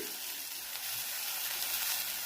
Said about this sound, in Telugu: ఉల్లిపాయలు కొంచెం వేగి వరకు వేయించుకోవాలి.